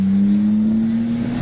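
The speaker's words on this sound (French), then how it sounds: "Le bruit du 6 cylindres." The inline six-cylinder engine of a BMW E30 325i runs at a steady low hum that rises slightly in pitch, close and continuous, heard alone for a brief moment.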